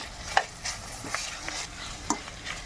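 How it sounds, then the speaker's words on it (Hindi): Chicken malai kabab ingredients with grated cheese being mixed in a bowl, giving soft, close scraping and wet stirring sounds with a few light clicks, steady and unhurried. "देखिए ये ग्रेट कर दिए हमने और इसको हम अच्छे से मिक्स कर लेंगे।"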